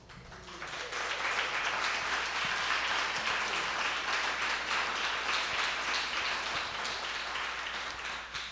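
A Sunday service congregation applauds, with dense clapping swelling in after a second and holding loud and steady for several seconds before easing slightly.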